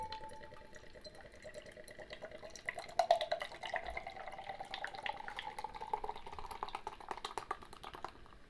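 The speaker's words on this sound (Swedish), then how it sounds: "Häller vi upp." Nils Oscar Running Free non-alcoholic beer is poured from a can, giving a soft, steady splashing and fizzing with faint drips and bubbling, quiet and close.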